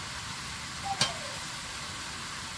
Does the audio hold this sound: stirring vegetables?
yes